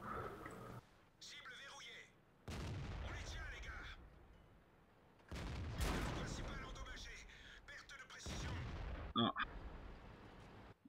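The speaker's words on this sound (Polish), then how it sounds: "Z magazynka tylko dwa strzały weszły." Magazine-fed gun shots in a video game sound as a few heavy, booming blasts spaced several seconds apart, fairly faint and mixed with ongoing talk.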